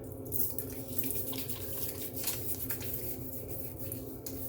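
Water splashes and trickles at a sink as blue-tinted water is scooped onto a face before a shave, with soft irregular splashes and running water close by at a low level, no speech.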